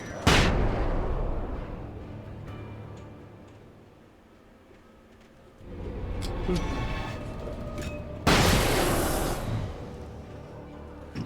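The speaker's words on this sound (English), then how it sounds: "I love the flashbang grenades so much." Flashbang grenades go off in the video game Alan Wake: three sharp, loud bangs, one near the start, one midway and one later, each fading into a rumbling tail amid game sounds.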